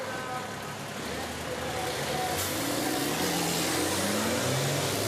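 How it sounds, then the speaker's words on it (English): Deep engine roar from racing trucks at an FIA European Truck Racing Championship race start, building steadily, with rising turbocharger whistles sweeping upward as they accelerate, loud and close. "the sound of multiple thousands of horsepower and turbochargers whistle into life"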